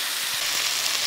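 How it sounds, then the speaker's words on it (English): Onions and vegetables for vegetarian fajitas hiss in a hot pan with a steady, close sizzle. Faint soft stirring taps run beneath it, with no talking. "keep turning them and stirring, flipping them around in the pan until they start to get pretty well cooked here"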